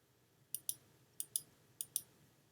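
Computer mouse button clicks in a quiet room: three pairs of sharp, faint double clicks spaced evenly, each pair quick and crisp, with no talking.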